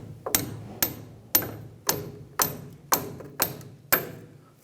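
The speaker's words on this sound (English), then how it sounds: "I'm going to go ahead and try and tap this down." Steel hammer taps driving a sway bar link stud down through a metal sleeve, washers and bushings on a 1994-2004 Chevrolet S10: eight sharp, evenly spaced metallic strikes, close and loud, each with a short ringing decay.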